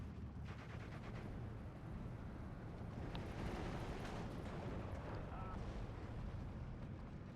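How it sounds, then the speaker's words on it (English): Distant artillery-like booms and gunfire rumble steadily throughout as 81mm mortars fire in a Steel Division 2 battle, a dense low wash with occasional sharper cracks and no talk. "81 mortars going after the IG-33s"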